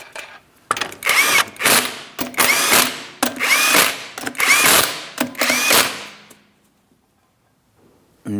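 Power tool driving five 19mm wheel lug nuts on a 2008-2016 Chrysler Town & Country, five loud separate whirring bursts with sharp rattling impacts, then quiet.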